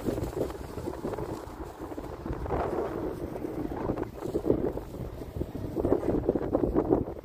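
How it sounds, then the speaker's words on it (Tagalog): Strong gusts buffet the microphone in uneven surges. A low rumble sits underneath, and the gusts grow louder toward the end. "Tayo kay mahangin. Hangin. Grabe."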